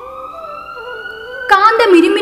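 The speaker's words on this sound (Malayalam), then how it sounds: "ആ സമയം ദൂരെ നിന്ന് ഒരു ആംബുലൻസിന്റെ സൈറൺ ഞാൻ കേട്ടു." A distant ambulance siren holds steady wailing tones as a horror-story sound effect, then a spoken voice cuts in over the fading siren for the last second.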